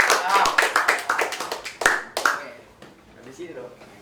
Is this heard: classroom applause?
yes